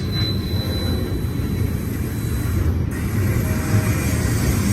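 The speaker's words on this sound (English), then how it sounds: "train is eastbound" An eastbound freight train of stacked international containers, led by two SD70ACe locomotives, rumbles steadily past on a curve near Old Cajon Depot, close and loud, with rail clatter and faint high wheel squeal throughout.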